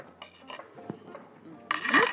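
Food being scraped and moved into a metal mixing bowl in a home kitchen, with a few soft clinks and scrapes, then a louder, busier clatter of metal against metal toward the end, close by with no talking.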